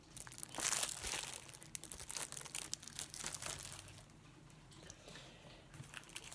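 A package of large paper envelopes is handled close by, with crinkling, rustling and crisp crumpling bursts that rise and fall irregularly, quieter toward the end.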